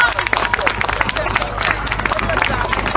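Applause from an outdoor crowd at a Birth of Rome celebration, dense continuous clapping close and loud, with crowd chatter mixed underneath.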